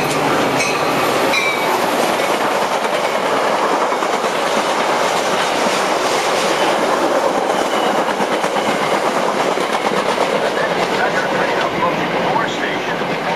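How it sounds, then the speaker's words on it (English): A Metra express commuter train roars through a station without stopping, a steady loud rumble of railcars with clickety-clack wheels and faint squeal throughout. "The next Metra train approaching"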